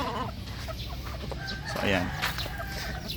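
Chickens cluck in a backyard coop, producing a steady, moderately close run of clucks and calls while someone speaks briefly over them.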